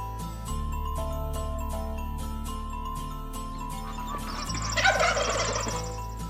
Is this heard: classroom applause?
no